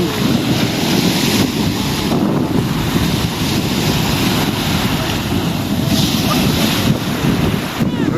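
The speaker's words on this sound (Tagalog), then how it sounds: "Lakas ng hangin. Lakas ng alon, oh." Strong wind buffets the microphone while big waves roll and crash on a white-sand beach at Lobo, Batangas, a loud continuous roar with surging swells throughout.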